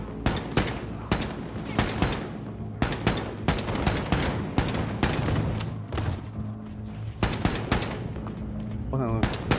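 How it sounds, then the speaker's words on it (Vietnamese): Rapid bursts of weapon fire from a flamethrower in the shooter game Wolfenstein 2, loud and repeated in quick volleys across the whole stretch, with a voice speaking over parts of it. "Bắn súng lửa nè."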